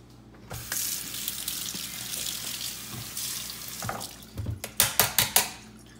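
Tap water running to rinse green onions in a kitchen sink, a steady close splashing stream, followed by a few sharp shakes and knocks as the onions are handled.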